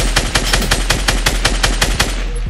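Rapid automatic gunfire in the video game Fortnite, a steady stream of about a dozen sharp, evenly spaced shots over a low constant hum, loud and close with no talking.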